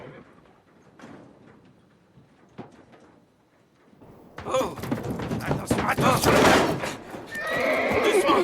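A horse whinnies loudly and close, with hooves clip-clopping and heavy thuds amid a burst of commotion, after a quieter stretch where people talk.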